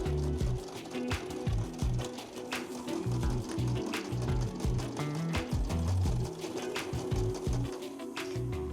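A sewing machine stitching quilted fabric scraps runs in a steady, fast rhythmic chatter throughout, close and continuous, with no voices.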